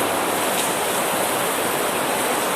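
Floodwater surges around a house in a loud, continuous rush of churning water that stays dense and steady from start to finish, with no voices.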